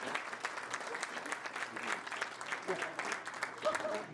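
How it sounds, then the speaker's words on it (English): Applause from a dinner crowd at a Christmas dinner of a county Republican club fills the room with soft, steady clapping, fairly distant, under a faint murmur of voices. "I think it's appropriate we start with a round of applause for a great turnout and collection"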